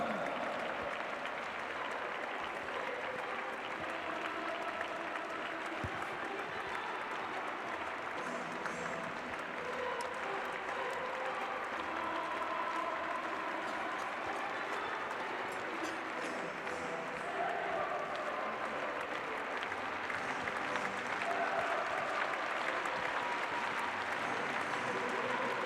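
Long, steady applause from a large crowd during a lap of honour at the Saut Hermès 2019 show-jumping event in Paris, sustained clapping with crowd noise and a voice over a public address.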